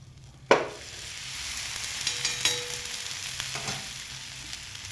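Steady close sizzling of a methi thalipeeth, a fenugreek flatbread, frying in hot oil in a kadai, starting with a sharp clatter, then continuous crackle with a few small clinks.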